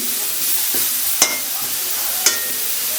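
Rohu fish and eggplant being lightly sautéed in a pan for a thin curry, a steady soft sizzle with two brief sharp clinks from stirring, no talk.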